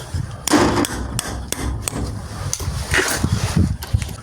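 Sharp hammer blows ring out at irregular intervals, several distinct knocks with thuds and small clatters between them, close and fairly loud.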